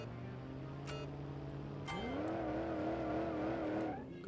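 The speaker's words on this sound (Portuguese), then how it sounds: "Vou cantar o pneu aqui." A car's tires squeal in the BeamNG driving game, a steady engine hum giving way to a sustained, wavering screech that holds for about two seconds before cutting off.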